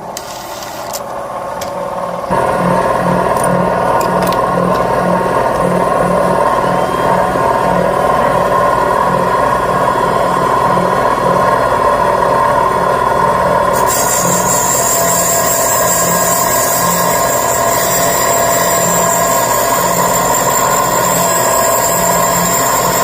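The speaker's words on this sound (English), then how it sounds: "Okay, let me grind up this valve." Engine valve being ground on a valve grinding stone in a workshop, a loud steady machine whine and hum that starts abruptly after a quiet moment, with a higher-pitched layer joining partway through and running continuously to the end.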